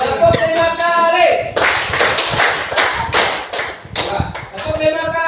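After a short bit of talk, a group gives a quick burst of about five loud, unison hand claps, followed by more speaking.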